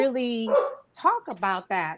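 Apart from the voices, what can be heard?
dog barking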